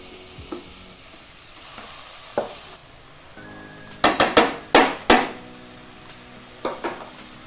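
Soaked basmati rice being stirred with a spoon into frying vegetables for a coconut milk pulao, soft sizzling under a few scattered scrapes, then a quick cluster of sharp spoon knocks against the pot.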